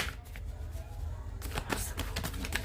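Tarot cards are shuffled by hand in a soft, continuous riffling rush, with a denser flurry of card slaps in the second half over a steady low background hum.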